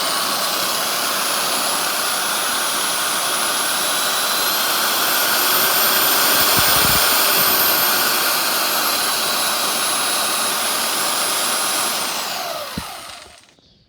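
A Triton TSPSP650 oscillating spindle sander runs close and loud with a steady high-pitched motor whine and airy roar, holding level before switching off and spinning down near the end.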